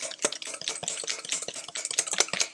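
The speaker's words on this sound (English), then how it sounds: "you're going to go ahead and whisk the egg yolks and the sugar together" Egg yolks and sugar whisked together in a bowl for crème brûlée, a quick, rhythmic clicking and swishing of the whisk against the bowl, close and continuous.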